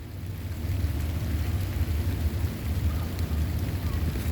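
A sudden heavy downpour outdoors makes a dense, steady roar of rain that holds strong and even from start to finish.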